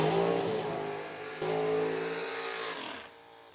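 The McCarty Auto Parts S10 pickup roars down a drag strip in a final-round race, its engine loud and straining as it climbs through gear changes before the sound fades toward the end.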